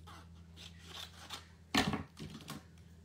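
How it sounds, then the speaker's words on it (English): Scissors snip a sheet of scrapbook paper in half, giving one loud, crisp crunching cut after a few soft rustles, followed by fainter paper handling. "cut it in half."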